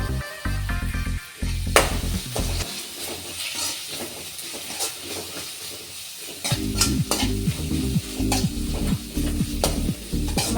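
Coriander leaves and curry leaves fry in hot oil in a pan for curd rice, giving a loud, continuous sizzle and hiss up close, with repeated scraping stirs throughout and no talking.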